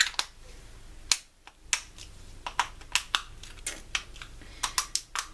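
A plastic cosmetic pump bottle being twisted by hand, its cap turning without opening, gives a run of sharp, close clicks and creaks in irregular bursts with short pauses between them, with no talking.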